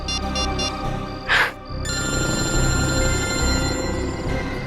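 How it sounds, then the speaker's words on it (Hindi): A phone rings with a repeating electronic tone, interrupted briefly by a short whooshing burst, then the ringing resumes steadily and fairly loud. "फोन लगाता हूँ"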